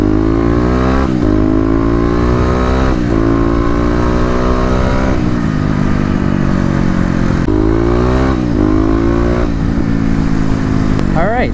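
Kawasaki KLX250 motorcycle engine revving and pulling hard, loud and close, rising in pitch through several gear runs with brief dips between shifts, talk faintly mixed in.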